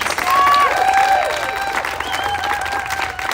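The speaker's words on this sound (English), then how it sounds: "Please, big round of applause." A press conference crowd breaks into applause and some cheering, a steady wash of clapping with a few whistles and shouts on top.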